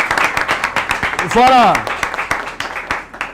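At a school competition show, an audience gives a short burst of scattered clapping for a student while a voice speaks over it and a rising whoop or shout cuts through midway.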